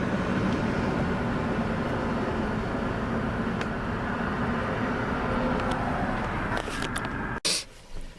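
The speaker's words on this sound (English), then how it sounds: "Ton of traffic coming out the freeway." Traffic streams off a freeway at night, a broad continuous roadway rumble heard from inside a vehicle, loud and steady, ending with a sudden thump and rustle.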